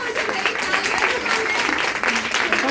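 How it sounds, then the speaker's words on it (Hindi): An audience at a live makeup and winter skin care demonstration applauds as a guest comes on stage, brisk dense clapping that fills the room with voices mixed in. "सो जोरदार तालियां हो जाएगी"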